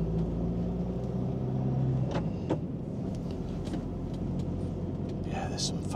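A car drives along the seafront at Cleveleys near Blackpool, a steady close engine and road rumble filling the cabin throughout, with a few faint clicks and rattles near the end.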